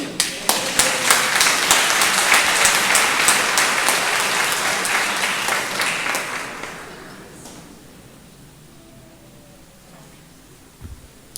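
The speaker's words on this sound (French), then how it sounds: "Est-ce qu'on peut l'applaudir?" A church congregation applauds a woman, with dense clapping that swells for several seconds, then thins out and fades into a quiet room with a few faint knocks at the end.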